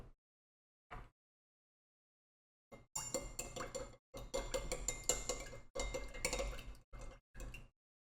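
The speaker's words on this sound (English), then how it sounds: "Give it a quick stir." Ice clinking and rattling against a glass as a cocktail is stirred, several short close bursts separated by brief silences, with no voices.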